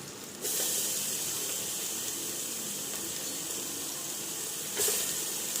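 Garlic paste dropped into hot oil over a high flame bursts into a loud, dense sizzle that holds steady and close, with a brief surge near the end.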